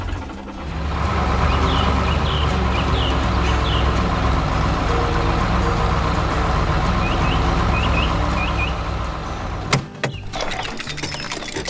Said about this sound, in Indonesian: Truk biru bergerak perlahan di medan pertanian yang terang